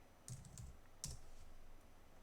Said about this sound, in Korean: 저는 타이핑을 해볼게요